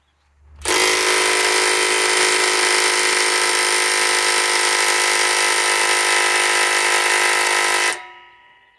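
Milwaukee M12 Fuel 3/8-inch stubby impact wrench on a 5-amp XC battery hammering at a rusted 1 7/8 nut on a trailer tongue, a loud continuous rattling burst of about seven seconds that stops abruptly.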